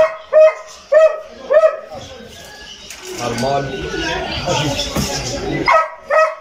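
Dog barks at an open-air dog market in Casablanca, several sharp barks at the start and end, with bird cooing and loud crowd chatter and talk in between.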